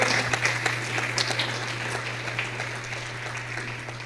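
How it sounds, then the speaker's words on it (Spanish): Congregation applause in a church service, a sustained crowd of hands clapping with a few sharper claps at the start, softening slightly toward the end over a low steady hum. "Denle un fuerte aplauso al Señor."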